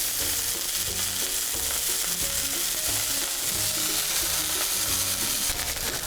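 A hamburger patty fries and browns in a pan, giving off a loud, continuous close-up sizzle with dense crackling that holds steady from start to finish and has no voices over it.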